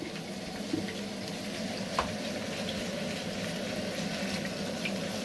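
Empty clay pot heating on the stove while doro is being made, giving off a steady soft crackle and sizzle, with faint ticks and one sharper pop, close up and without talk.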